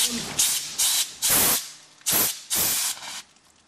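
Fire extinguisher discharging in a fire-safety demonstration at a distillery after the pin is pulled and the lever pressed, six loud hissing spray bursts of about half a second each, close by.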